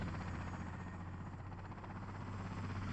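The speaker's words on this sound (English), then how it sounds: "You move the helicopter with the A button." A helicopter in the Nintendo Switch 2 Welcome Tour game gives a steady, faint rotor drone with a constant low hum, even and unbroken throughout, with no voices.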